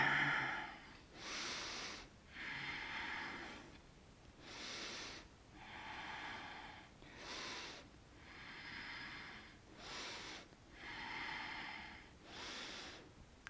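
Heavy rhythmic breathing after a yoga vinyasa sequence, slow deep inhales and exhales repeating about every two to three seconds, close and breathy, with no talking.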